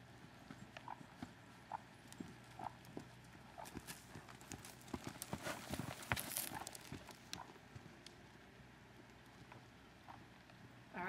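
Horses trotting in an indoor riding arena: steady, rhythmic hoof clip-clop on soft footing, fairly faint and slightly distant, with occasional louder hoof strikes and general arena noise.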